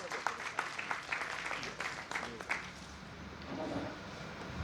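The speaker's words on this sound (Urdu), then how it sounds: "جناب ایوب صابر صاحب بھرپور تالیوں سے استقبال کیجیے گا" Audience applause at an awards ceremony in Sialkot greets a guest invited to give the welcome address, dense clapping fading partway through into quieter room sound.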